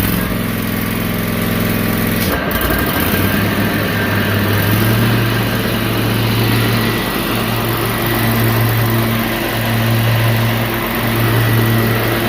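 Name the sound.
riding lawn mower engine running, blade lowered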